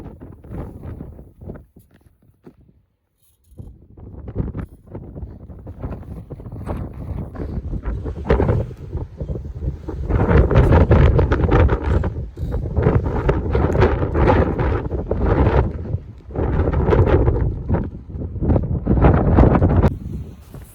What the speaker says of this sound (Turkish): Rüzgar